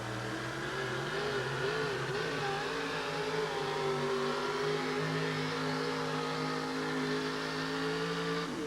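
A pulling truck drags a weighted sled at a 1988 truck pull in Kansas City, its engine held at high, strained revs in a loud, steady roar with wavering pitch throughout.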